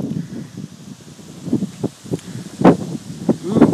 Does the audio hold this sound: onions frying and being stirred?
no